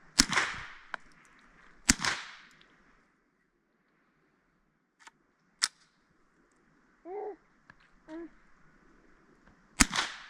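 A Marlin Glenfield Model 60 semi-automatic .22 Long Rifle fires several sharp, isolated cracks spaced seconds apart, with a couple of fainter pops and a few brief murmured voices between shots.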